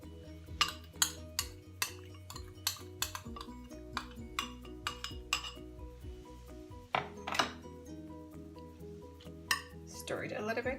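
Utensil clinking against a bowl while mango salad is tossed with sauce, a steady series of sharp metallic and ceramic taps, close and fairly loud, with no talk.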